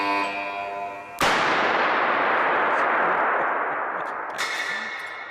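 A 2 million volt impulse generator fires an artificial lightning bolt: a single sharp, very loud crack that rolls into a long, roaring decay, with a faint second snap near the end and no talking.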